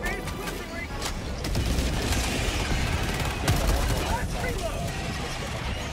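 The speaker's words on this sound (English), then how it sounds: "Airstrike close." Rapid gunfire and booming airstrike explosions in the co-op shooter game Helldivers 2, a dense loud barrage with sharp cracks throughout, mixed with voices talking.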